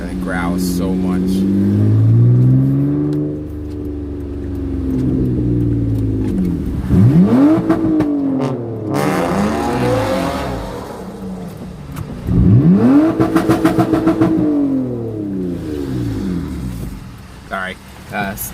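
A Mitsubishi Eclipse engine revs hard twice, rising and falling in pitch with a deep growl, loud and close, between steady idling rumble.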